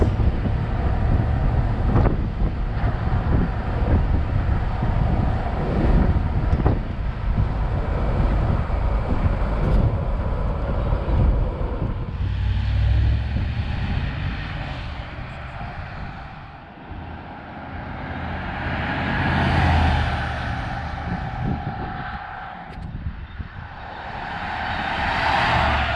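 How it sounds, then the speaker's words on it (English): A 1985 Mercedes 380SL cruises along with a steady, smooth engine and road roar mixed with heavy wind buffeting, the rushing noise swelling and easing as the car moves, with no talking. "Very smooth SL driving experience."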